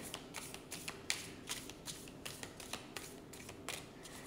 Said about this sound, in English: So I'm clearing the deck.